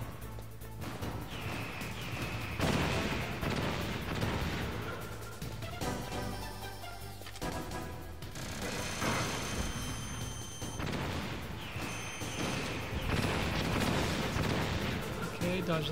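Missile explosions in Metal Gear Solid, repeated heavy blasts and crashes arriving every couple of seconds amid loud game noise, with a voice talking in between.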